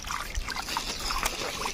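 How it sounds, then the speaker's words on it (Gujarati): Small fish splash the water surface of Umrasar pond in Samatra village, making a continuous patter of light splashes and trickles over soft outdoor background noise. "જો તો પાણી ઉડાડે,"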